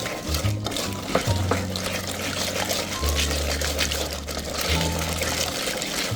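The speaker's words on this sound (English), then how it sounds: "Then we're gonna stir it up." Spoon stirring cranberry sauce ingredients with cinnamon, orange zest and honey in a pot, a steady wet swishing and scraping that runs close and continuous throughout, with a low background hum beneath.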